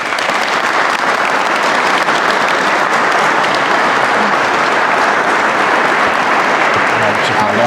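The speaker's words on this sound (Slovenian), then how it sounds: "da res date en bučen aplavz naši predavateljici" A lecture audience at an evening academy talk on epigenetics gives the female lecturer loud, sustained applause, a dense unbroken clatter of many hands filling the room.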